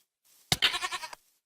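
Goat bleating in the video game Minecraft, a single short wavering bleat of about half a second, fairly close and clear with no talk over it.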